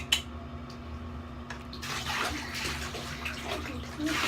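Water runs into a bathtub while a dog is bathed, a soft splashing flow that starts quietly and grows fuller, with faint handling noises close by.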